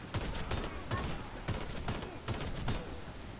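Repeated gunfire bursts from a Warface shooter on PS5 strike the player, arriving as several rapid volleys at a steady rhythm, moderately close and fairly quiet.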